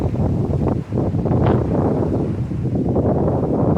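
Strong wind blows outdoors on a hot day, buffeting the microphone with a loud, continuous roaring rumble that briefly dips once before surging back, with no voices over it.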